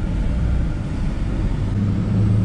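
A Duramax diesel truck on 38-inch Toyo M/T tires pulls away, a deep, steady engine rumble heard from close by, swelling slightly toward the end.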